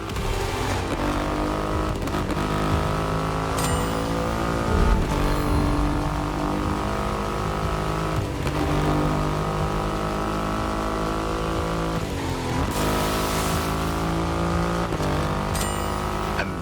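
A Triumph Rocket 3 motorcycle with a 2.5-liter engine in The Crew Motorfest, giving a steady, loud engine drone with several rises and dips in revs and a brief surge near the end.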